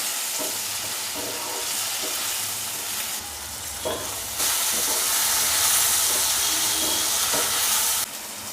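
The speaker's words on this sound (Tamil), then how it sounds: "நல்லா கிரேவி மாரி வதங்கட்டும்" Chilli chicken gravy with salt sautés in a pan, giving a steady hissing sizzle with intermittent spatula stirring, the hiss swelling louder for a few seconds midway.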